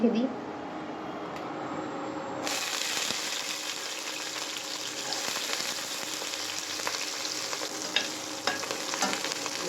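Peas fry in hot oil for fried rice, giving a steady close sizzle with stirring scrapes throughout, which brightens and thickens a couple of seconds in, with faint background speech.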